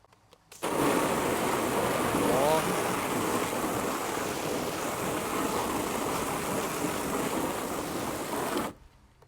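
A car washing spray gun running in soap mode gives a steady, close hissing spray that starts suddenly, holds at an even level for about eight seconds, then stops abruptly.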